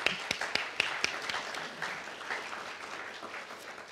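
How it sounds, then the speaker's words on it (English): Applause from an audience at a dedication ceremony for a senior housing residence, with scattered sharp claps near the start that settle into steady, moderately distant clapping for about four seconds, with no voices. "Let's give them a round of applause, too."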